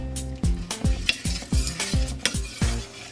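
A spoon scrapes and spreads homemade sauce across the bottom of an electric skillet for a potato casserole, a rhythmic series of about eight close metallic strokes with a light sizzle underneath.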